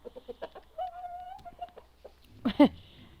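A young black rooster, incubator-hatched, lets out a short crow near the end, after a few soft clucks and scattered noises at low volume in a village farmyard.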